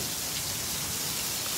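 Steady rain falls outside during a stormy, typhoon-like weekend, heard from an indoor corridor as a continuous soft hiss with no voices.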